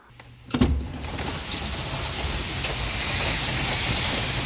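Heavy rain falls steadily outside, a dense, even hiss of drops that begins after a brief quiet moment and a soft knock, then holds broadband and constant to the end with no voices.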